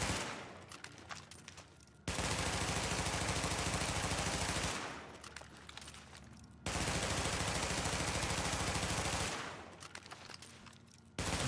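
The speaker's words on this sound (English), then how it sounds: "This is with Lone Star, and the RPM is not all that great either." A Lone Star light machine gun in The Division firing two long sustained bursts of rapid, evenly paced shots, loud and close, with shorter scattered shots and gear noise in the pauses.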